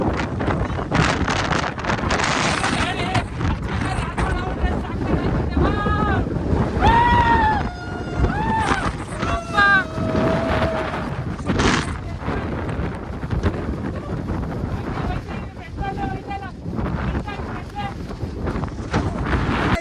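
Strong wind on the Mullayanagiri hilltop roars and buffets the microphone continuously, with voices talking over it and a few whistling, tonal cries cutting through.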